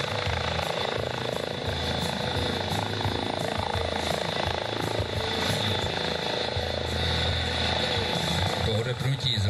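Helicopter at a NATO Days air show in Mošnov, Czech Republic, with a loud, steady rotor and engine roar that fills the whole stretch without a break.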